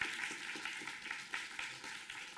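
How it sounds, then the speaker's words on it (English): Audience applause for the evening's speakers at a tech talent show, a moderate, steady patter of many hands clapping with small swells, heard from some distance in a hall. "Let's give them a round of applause, please."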